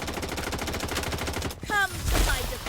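Rapid automatic gunfire in the Blood Strike battle royale video game rattles off in a dense burst lasting about a second and a half, followed by a short pause and a few more shots, with a voice talking over it.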